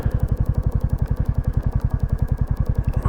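Royal Enfield Classic 350 single-cylinder motorcycle passing through a toll bridge, its engine thumping in a steady, rapid rhythmic beat, loud and close, with no speech.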